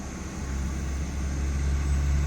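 A coal truck rolls past on a rural road, its low, rumbling engine noise building gradually louder and heavier at a moderate distance.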